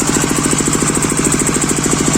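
A mini tractor built from a walk-behind tractor pulls a plough, its engine chugging loud and close in a fast, steady pulsing rhythm with no talk.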